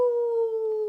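A voice imitates the long, sustained howl of wild things at the moon, a steady drawn-out tone held close and fairly loud.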